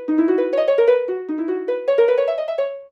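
Minecraft note blocks play a bright plucked tune as a doorbell, a quick steady run of clean tones repeating its phrase twice, loud and alone.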